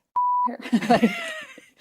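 A single steady electronic censor beep, loud and clean for about a third of a second, followed by muffled speech.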